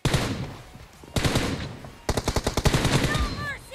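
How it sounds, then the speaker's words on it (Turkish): Rapid pistol fire in the mobile shooter PUBG Mobile comes in loud bursts of sharp repeated shots, with a fast volley at the end and a faint voice beneath. "Tabanca M4'ten daha hızlı sıkıyor ya."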